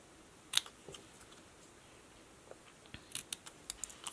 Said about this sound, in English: I think I'm going to cut a little bit closer to my words and do a banner cut on it.